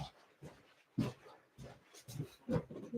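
A dog barks and whimpers indoors in short, irregular bursts with pauses between them, close and moderately loud. No one speaks over it.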